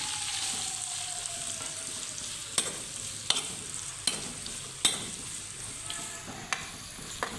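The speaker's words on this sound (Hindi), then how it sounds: "अच्छे से प्याज को फ्राई करेंगे पहले तकरीबन 5 से 6 मिनट तक" Onions fry in a pan after whole cumin went into the oil, a continuous sizzle with sharp spoon knocks and scrapes every second or so.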